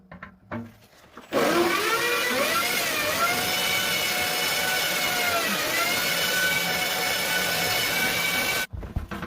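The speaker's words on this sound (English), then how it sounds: "I'm going to drill, like I said, kind of holes staggered right in here" A power drill bores holes into a homemade stove, running with a continuous loud whine and grinding for several seconds after a few faint knocks, then cutting off abruptly.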